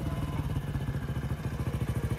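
A motorcycle engine idles and putters nearby with a steady, rapid rhythmic thrum, heard on its own without speech.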